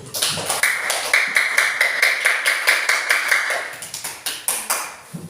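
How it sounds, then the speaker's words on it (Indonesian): Classroom clapping in an Islamic religious studies lesson: a group of students claps hands together in a steady run of close, sharp claps with no talk over it, then tapers off near the end. "Tepuk tangan dulu."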